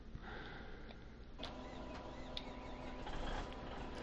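Truck engine in Farming Simulator 17 cranking and starting up after breaking down, a rough mid-range mechanical drone that builds and steadies, with faint clicks over it and no talk.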